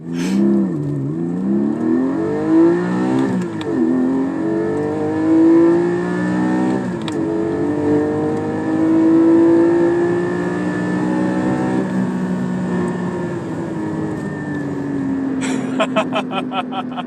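A Lotus Evora GT engine revs through the gears while driving, rising and falling in pitch with several upshifts, loud and close, ending with a crackle near the end.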